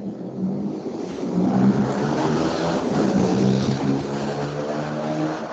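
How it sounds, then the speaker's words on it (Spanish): A noisy motorcycle passes by outside, a droning engine swell that grows louder, holds, and lingers at moderate distance, with no one speaking over it. "Vamos a esperar a que pase esa moto bulliciosa que se ha de haber oído ahí"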